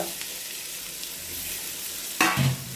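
Garlic frying with onions in hot ghee for biryani, a steady close sizzle that swells into a louder burst of crackling near the end as the pan is stirred.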